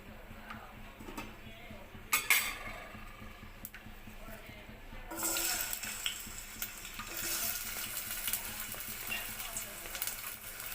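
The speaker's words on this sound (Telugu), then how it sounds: "ఇప్పుడు నూనె కాగిన తర్వాత ఎర్రగడ్డ వేద్దాం." Onions dropped into hot oil for a cabbage and chana dal curry start a loud, steady sizzle about halfway through, following quieter kitchen clatter and a few knocks.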